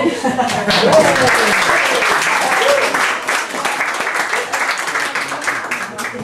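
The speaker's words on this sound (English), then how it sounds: "Round of applause to Lizzy." A crowd claps steadily for several seconds, with voices and cheering mixed into the applause.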